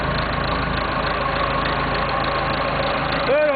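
The diesel engine of a 1976 Massey Ferguson 50D backhoe idles after a cold start, a steady low rumble close by that runs throughout, with a short squeak near the end.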